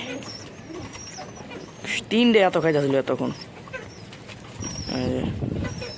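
Pigeons coo nearby in low throaty bursts, mixed with a person talking casually over them.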